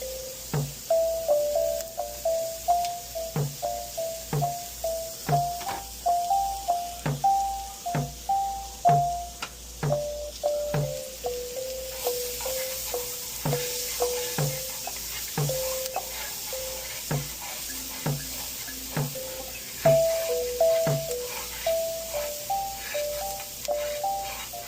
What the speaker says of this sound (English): Let's add in the onions.